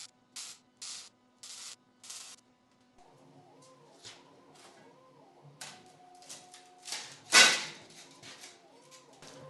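A tube is tack welded onto a Jeep windshield frame, with a run of short, crackling weld bursts followed by a louder, longer buzzing tack over a quiet shop hum.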